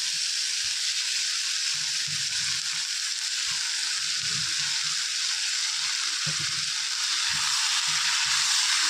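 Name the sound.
tomatoes and onions sautéing in a pan for chutney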